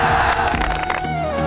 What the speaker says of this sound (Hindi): अचानक तालियों की गड़गड़ाहट से आसमान गूंज उठा।